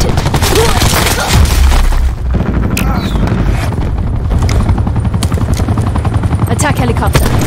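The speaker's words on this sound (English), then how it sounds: "Enemy attack chopper above." An enemy attack helicopter in the game Call of Duty Black Ops 4 thrums overhead amid booming explosions and bursts of gunfire, loud and busy throughout, with sharp impacts scattered across the din.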